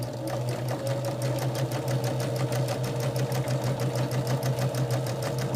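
A sewing machine chain-stitches quilt pieces in a fast, steady rhythmic chatter, its needle strokes evenly spaced over a low motor hum, close and continuous without pause.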